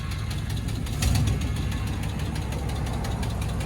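Chevy Silverado 1500 with a 5.7L V8, a cam, long tube headers, high-flow mufflers, true dual exhaust and 6-inch tips idles while still warming up, a steady deep rumble with a slight lope, heard close and alone.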